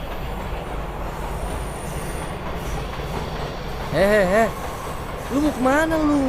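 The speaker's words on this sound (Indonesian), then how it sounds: "Berarti kereta ini mau ke Jakarta dong, Kay?" A passenger train rolling on rails toward Jakarta, heard from inside: a constant low rumble and rattle of wheels fills the scene, with people talking over it toward the end.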